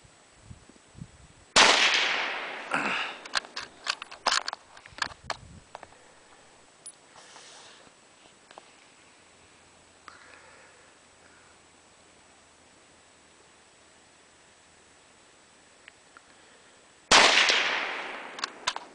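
Model 1891 Carcano rifle firing 160 grain bullets outdoors, two loud sharp blasts about fifteen seconds apart, each with a brief decaying tail, with scattered handling clicks and light rustling between shots.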